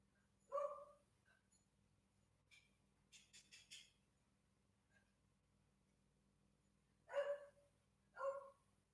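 A dog barks faintly in a quiet room, a few scattered sharp barks and yips separated by long gaps, with a quick burst of smaller yaps in the middle.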